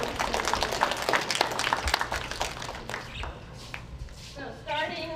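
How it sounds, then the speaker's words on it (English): A round of applause from a crowd at a county fair livestock showmanship event, dense clapping rising over the first few seconds and then thinning out, mixed with voices talking nearby. "But a round of applause, please, for Taylor"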